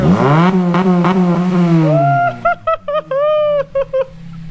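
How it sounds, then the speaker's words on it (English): A 2007 Honda Civic Si engine held at high revs, loud and close, its steady droning tone climbing and then bouncing repeatedly against the rev limiter in choppy, stuttering pulses, with people talking briefly over it. "Hold her down, let her bounce off the limiter."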